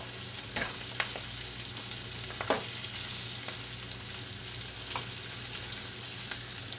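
Chicken pieces for chicken marsala sizzle steadily in a pan, with a few sharp clinks and taps as they are turned over, and no talking.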